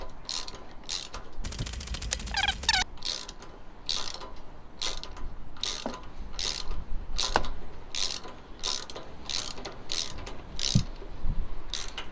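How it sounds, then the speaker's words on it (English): A hand ratchet tightens a bolt on a pressure washer's pull cord assembly, giving a steady run of crisp, evenly spaced clicks close to the microphone, with a brief quicker flurry early on. "get your ratchet, pull it on tighten, and just tighten it up"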